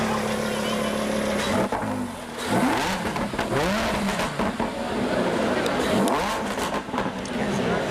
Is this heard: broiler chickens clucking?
no